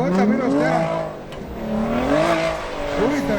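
An Audi drifts on a winter track, its engine wailing and rising and falling in pitch as it slides through corners, loud and close, with a voice talking over it.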